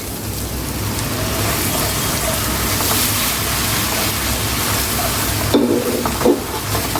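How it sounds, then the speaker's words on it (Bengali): Spice masala with tomato paste fries for a Bangladeshi river katla fish dish, giving a loud, steady, close sizzle with stirring throughout and a couple of sharper spoon scrapes near the end. "টমেটোটা পেস্টটা দিয়ে আরও কিছুক্ষণ আমি ভালো করে কষিয়ে নেব"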